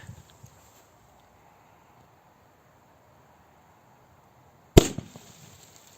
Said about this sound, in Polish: gruba ziemia tą petardę pokonała. No i głośno nie wybuchła